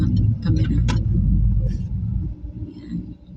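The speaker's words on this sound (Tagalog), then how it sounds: "Medyo traffic ngayon kasi may ginagawang kalsada sa kabila." Steady car traffic on a road in Romania, slowed by roadworks nearby: a continuous low engine rumble with tyre noise from vehicles rolling past close by, loud throughout and easing slightly toward the end.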